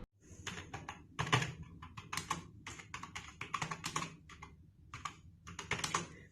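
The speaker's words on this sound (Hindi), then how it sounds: "ये टाइपिंग एक्सपीरियंस काफ़ी अच्छा देता है" Someone types on a budget Zebronics wired keyboard, with rapid irregular bursts of clacky keystrokes and brief pauses between runs, close and alone.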